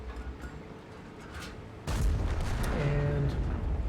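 A heavy tank cannon fires in World of Tanks, a single loud boom near the two-second mark followed by a sustained rumbling tail with faint mechanical whirring after it.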